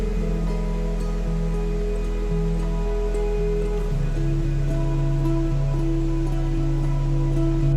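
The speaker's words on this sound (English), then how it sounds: "After 10 minutes of hike, we reached the Gweleti waterfall, which is so beautiful to look at." Steady rushing roar of the 30-metre Gveleti waterfall, a dense continuous wash of falling water close by, unchanging throughout with faint tonal hum underneath.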